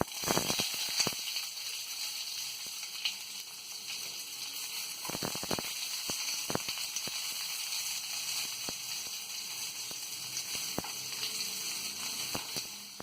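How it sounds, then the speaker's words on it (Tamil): Onions sautéing in hot oil for a tamarind okra curry, a steady close sizzle with scattered sharp crackles and a few spatula stirring knocks throughout, with no talking. "முதல்ல நம்ம அந்த வெங்காயத்தை சேர்த்து நல்லா வதக்கிக்கலாம்."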